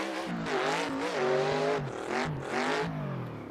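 Adam LZ's RTR FD Mustang drift car revs hard with a rising and falling engine note, its tires squealing as it slides through successive flicks, loud and close throughout.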